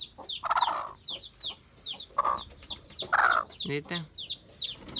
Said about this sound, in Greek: καθαρόιμη ασύλ, μαχητής κότα